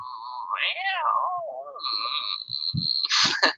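A human voice imitating a cat, drawn-out meow-like wails that rise and bend in pitch, followed by a few short breathy sounds.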